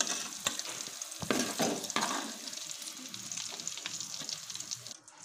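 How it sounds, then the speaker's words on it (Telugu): Diced ivy gourd sizzles in a hot pan with a steady crackle, broken by several sharp scrapes and clacks of a spoon stirring. "బాగా వేగిపోయి కదండి కలర్ చేంజ్ అయిపోయింది కదా బాగా బాగా వేగాయి"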